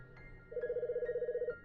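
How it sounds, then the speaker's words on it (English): A telephone rings in the Famicom Detective Club video game, a steady trilling electronic ring that warbles rapidly for about a second over a faint background hum, close and clear with no talking. "Ah, there goes the phone."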